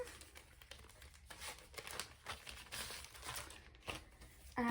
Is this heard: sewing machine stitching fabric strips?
no